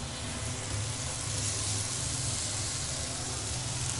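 Pancake batter sizzles in a hot frying pan greased with a few drops of oil over low heat, a steady close-up hiss and crackle continuing without talk.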